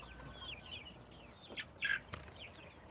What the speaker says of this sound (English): Them yellow chickens, they getting big